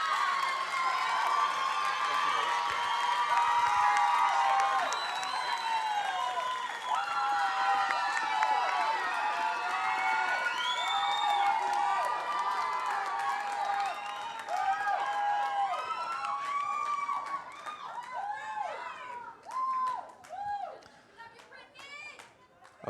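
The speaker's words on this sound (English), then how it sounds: "Keep that round of applause going for all the contestants" A Mrs. United States pageant crowd applauds and cheers for the contestants, loud sustained clapping mixed with whoops and excited shouts that gradually thins out toward the end, with voices and chatter throughout.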